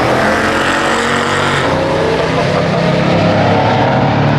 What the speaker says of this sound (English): Insane high-altitude drag racing battles.